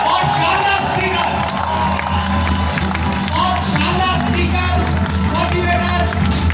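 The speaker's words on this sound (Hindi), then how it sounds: "आपकी जोरदार तालियों के बीच अंकेश खच्चर जी को मैं इनवाइट करने जा रहा हूं" A crowd at a network marketing event cheers and claps loudly and without a break, with whoops mixed into the applause while an announcer speaks over the noise.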